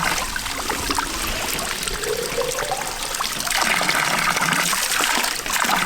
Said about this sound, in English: And this is where you fill up with your water.